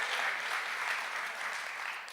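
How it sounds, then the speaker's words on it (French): A church audience applauds during a French-language service, giving a steady wash of many hands clapping together that fades slightly at the end. "Est-ce qu'on peut applaudir le Seigneur,"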